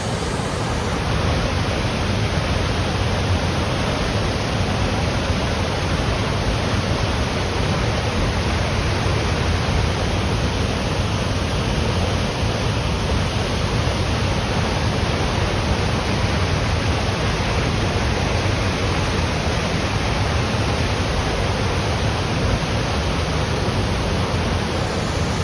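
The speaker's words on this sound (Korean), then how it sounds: "위에서 이제 물이 흘러내려와가지고 폭포를 이루면서 떨어지고 있습니다." A waterfall in Olympic National Park, Washington, pours down as a dense, constant roar of rushing water, loud and unbroken throughout, with no voices.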